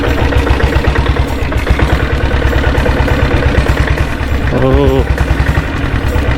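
A restored diesel Royal Enfield Bullet motorcycle engine runs up close with a loud, rhythmic thumping idle, the pulses coming evenly throughout and briefly rising as it revs near the end, with a short vocal exclamation over it.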